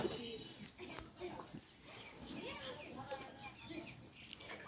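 Pigeons on a farm coo softly among other birds, low murmuring calls repeating faintly in the background while someone talks over them.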